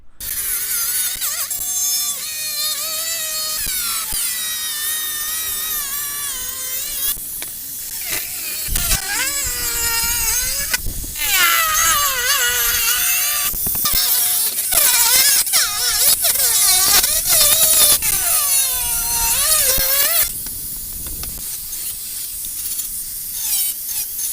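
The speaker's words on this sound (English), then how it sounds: "I'm using a metal grinder." A metal grinder cuts a motorcycle tail tidy for a Honda XL750 Transalp, whining loud and high with pitch sweeps as the disc bites and eases, broken by short pauses.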